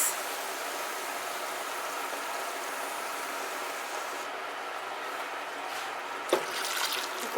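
Guinness stout poured from a can into a pot for corned beef and cabbage, a steady hissing, trickling pour lasting several seconds, close and fairly quiet, ending with a small knock.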